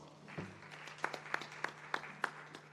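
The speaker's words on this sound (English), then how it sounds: "please let's give him a round of applause" Sparse, light clapping from a small audience at a regional disaster risk reduction roundtable, a handful of distinct claps standing out over a low electrical hum, fairly quiet and somewhat distant.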